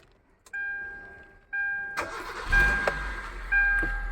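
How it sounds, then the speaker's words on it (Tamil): A car engine cranks and catches, revs briefly as the accelerator is pressed and released, then dies and stalls after a relay swap; a few short starter bursts precede the roar, with no talking over it. "இப்போ வண்டியை ஸ்டார்ட் பண்ணி பார்க்கலாம்"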